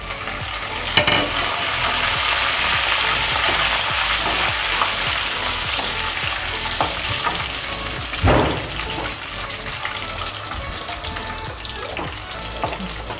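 Cumin seeds and curry leaves sizzle in hot oil for a gobhi gosht curry, a steady loud crackling hiss with bursts of spatter and a few stirring clinks, no talking.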